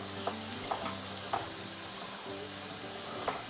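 A tomato paste mixture sizzles in a hot pan while being stirred, a steady frying hiss with a few soft scrapes and knocks of the spoon.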